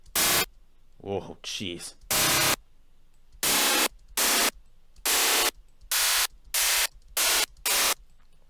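Bursts of synthesized white noise made in FL Studio, cut into about ten sharp, loud blocks of hiss with abrupt starts and stops, while someone briefly speaks near the start.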